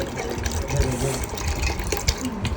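Water pours into a cooking pot in a home kitchen, a close gushing and splashing that runs throughout with a few clatters, while people talk nearby.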